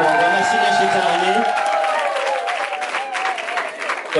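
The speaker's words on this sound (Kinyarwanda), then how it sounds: "amashyi menshi cyane" Applause at a wedding in Kigali, a dense crowd clapping steadily for the whole stretch, with voices and tonal music-like sounds mixed in and fading toward the end.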